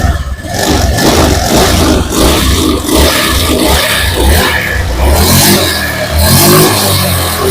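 A Honda Beat FI scooter engine revs repeatedly with the throttle blipped up and down, a loud close-up roar rising and falling in a steady rhythm, with no talk.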